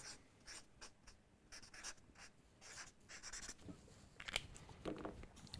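A marker scratches and squeaks across a board in short strokes as words are written, faint and close, with brief pauses between strokes and no speech.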